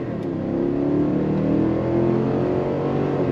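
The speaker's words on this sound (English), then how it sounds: "Listen to that V8, nice V8 rumble." A 2022 Cadillac Escalade's V8 engine revs under throttle through its 10-speed automatic, a steady, loud, close rumble that builds slightly and holds for a few seconds with no talk.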